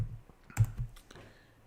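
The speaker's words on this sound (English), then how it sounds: "I know it's silly that I'm typing this out" Keys clack on a computer keyboard in a few quick, uneven bursts, with one firmer cluster of presses near the middle, fairly close and at low volume with no voices.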